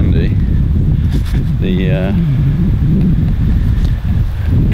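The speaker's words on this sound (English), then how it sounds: "It's super windy." Heavy wind buffets the microphone outdoors during a New Zealand deer hunt, a loud, constant low roar, with a voice speaking briefly over it.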